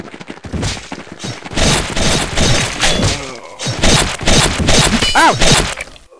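Gunfire and impacts in Counter-Strike 1.6, loud close bursts of shots and thuds in rapid irregular clusters, filling nearly the whole stretch with brief gaps.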